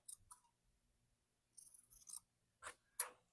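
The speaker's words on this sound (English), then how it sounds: "And now I'm going to trim it." Scissors trim basted fabric in a quiet room with scattered close snips, a few near the start and then a cluster of crisp cuts toward the end.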